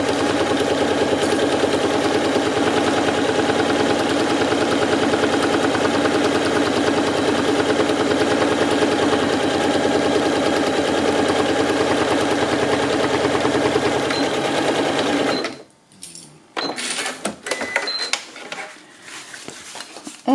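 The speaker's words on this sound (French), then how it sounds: "Donc là, bah, on va coudre." A sewing machine runs steadily for about fifteen seconds, stitching the full length of a bag's outer fabric, then stops abruptly, leaving a few soft handling rustles.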